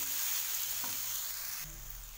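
Bottle-gourd kofta balls are stirred into fried spice paste in a pan, giving a faint, steady sizzle with a soft scrape or two from the stirring.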